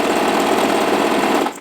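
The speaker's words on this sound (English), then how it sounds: "We're just going to take the material to our sewing machine, lower the presser foot, and I'm just using a straight stitch on the shortest stitch" A domestic sewing machine runs a straight stitch on its shortest setting through fabric straps, a steady fast motor whir with rapid needle chatter, loud and close, stopping abruptly at the end.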